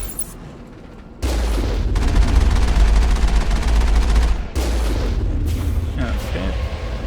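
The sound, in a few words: gunfire shooting at turrets, from the video game Mass Effect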